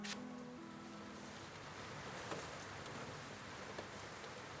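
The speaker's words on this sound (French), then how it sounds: "Il fait que pleuvoir." Steady rain falls in an even broadband hiss, with soft scattered drops and no voices.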